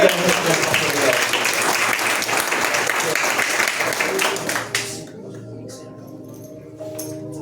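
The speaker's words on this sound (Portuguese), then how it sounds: "Aplauda o Senhor que cuida de." A church congregation applauds loudly with dense, sustained clapping that fades out after about five seconds, leaving a few scattered claps and quiet room noise.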